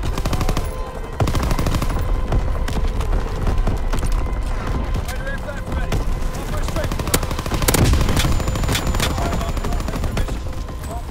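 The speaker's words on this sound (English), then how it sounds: "Strafing run inbound." Aircraft strafing run in Call of Duty WW2 multiplayer, a dense, sustained rattle of loud gunfire with scattered heavier impacts across the whole stretch, with game voice callouts mixed in.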